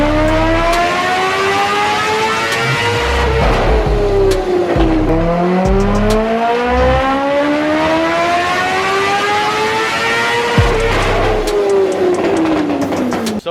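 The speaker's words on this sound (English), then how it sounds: "just gonna pull the silencer out and run it." Car engine on a dynamometer with the exhaust silencer removed, revving in long rising pulls with several gear shifts, loud and close with no talk.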